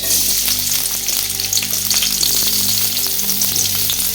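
Onion frying in a generous amount of oil for a Bengali pea greens bhaji, a loud, close, continuous sizzle with bursts of crackle and light stirring scrapes throughout.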